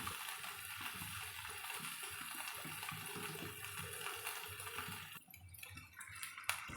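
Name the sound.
water being poured into a pan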